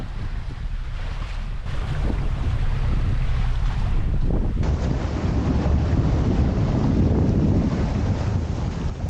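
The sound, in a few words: strong wind on a sailboat at sea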